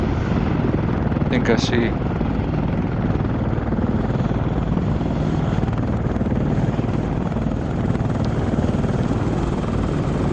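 A Chinook helicopter coming in to land in the military simulation game Arma 3: a loud, constant rotor drone fills the whole stretch, while a voice speaks briefly over it.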